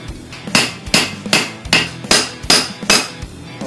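Hammer forging a Bowie knife blade and tang, eight sharp metallic ringing strikes at a steady rhythm roughly every 0.4 seconds, loud and close with no talk.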